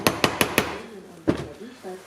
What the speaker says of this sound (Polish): Możemy zakłożyć sobie nasz bit stuknąć parę razy młoteczkiem.